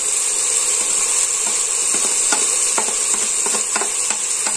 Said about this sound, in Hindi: तो अब थोड़ा सा चमचा भी हिला देते हैं